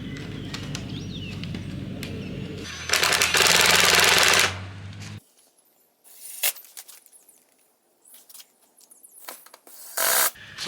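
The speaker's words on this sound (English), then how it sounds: "I'm just going to screw that on through the eyelets. I'm just going to use a exterior screw and a washer to hold that on." An exterior screw with a washer is driven through eyelets into the wood of a chicken tractor, with a loud whirring grind from the driver, then scattered knocks and handling sounds outdoors.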